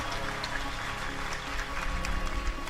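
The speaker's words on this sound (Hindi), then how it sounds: "बात अच्छी लगे तो ताली धीमी धीमी क्यों बज रही है?" An audience at a Hindi spiritual discourse claps softly and unevenly, a low, scattered patter of hands throughout.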